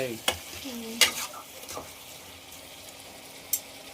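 A curry fries in a pan with coriander and curry leaves as a spoon stirs it, giving a soft continuous sizzle under a few sharp metallic scrapes and clinks against the pan.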